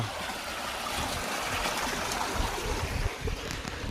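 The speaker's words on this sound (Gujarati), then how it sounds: "પાણી ચાલુ બોર તમે જોઈ લો મસ્ત પાણી આવે" Water gushes steadily from a running borewell on a farm, a continuous, fairly loud rushing flow close by with no voices.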